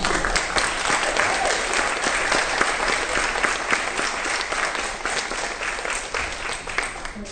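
Sustained, dense applause fills a briefing room at an eating disorders coalition event, loud and steady throughout with no voices over it, easing slightly toward the end.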